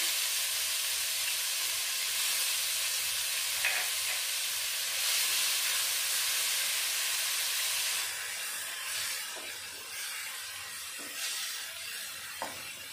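Ground onion paste sizzles in hot oil for a koi fish curry, a steady broadband hiss with a few brief crackles, continuous and fairly close, with no voices.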